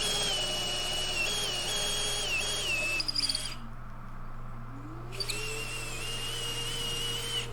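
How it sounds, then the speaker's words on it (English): A Dowel Max jig guides a drill boring 3/8 dowel holes in large wooden tabletop boards, the motor whining steadily and dropping in pitch as the bit cuts, then briefly stopping before spinning up again. "I used the dowel max to drill 3/8 dowel holes."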